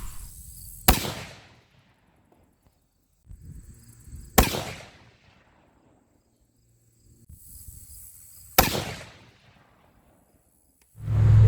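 Three sharp rifle shots fired for a group at a shooting range, evenly spaced about four seconds apart, each a loud crack with a short decaying tail, quiet between and no talk.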